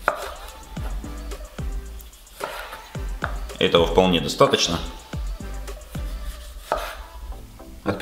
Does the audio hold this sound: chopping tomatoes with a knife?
yes